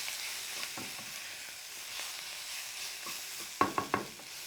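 Tagine ingredients cooking down in a pan give a soft, steady sizzle, with a few light spoon scrapes and taps near the end.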